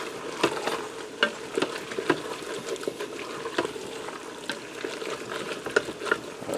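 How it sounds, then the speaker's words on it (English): Cream cheese is stirred around inside a Ninja Foodi pot, a low steady sizzle under repeated soft scraping taps of the spoon at an even rhythm, close and moderately quiet with no talking. "I'm going to stir that around"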